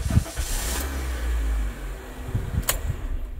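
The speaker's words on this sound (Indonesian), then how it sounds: "kita masukkan kunci dan kita starter" Used car started with the key nearby: a short stretch of cranking as the engine catches, then a steady idle settling in, with no talk over it.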